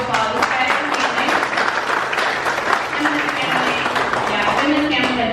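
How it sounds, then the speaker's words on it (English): Dense audience applause fills an outdoor Manteca Democrats picnic, steady and loud throughout, with voices and cheers mixed into the clapping crowd. "please a round of applause"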